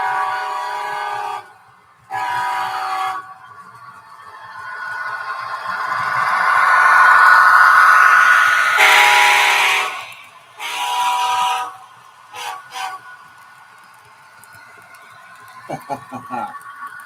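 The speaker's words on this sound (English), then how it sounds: "And just for you, Kyle, here comes an SD70 ACE." An SD70ACE diesel locomotive sounds its horn in a couple of loud blasts, then passes with a heavy rumble that swells and fades, followed by a few fainter horn and rail noises.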